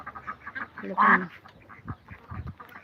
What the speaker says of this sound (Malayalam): താറാവെല്ലാം അവിടെ പോയി കുളിക്കാൻ വേണ്ടിയിട്ട് പോയി